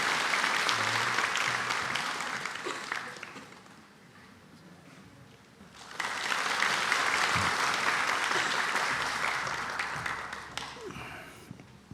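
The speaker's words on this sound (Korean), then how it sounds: "우리 박수로 이 아이를 축복합니다" Congregation in a church applauding to bless a child during a Sunday worship service, a long swell of dense clapping that dips briefly, then rises again and fades toward the end.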